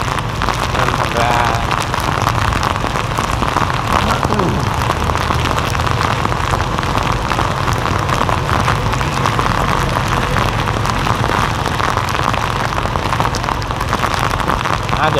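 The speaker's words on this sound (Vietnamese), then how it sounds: "trời mưa ở ngoài đường" Heavy rain pours down steadily during a storm in Saigon, a dense, loud, unbroken wash of drops hitting the street and surfaces.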